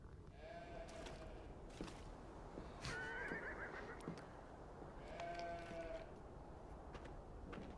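Sheep bleat and a horse whinnies in the video game Beyond Two Souls, several short wavering animal calls spread across the clip over a steady ambient bed.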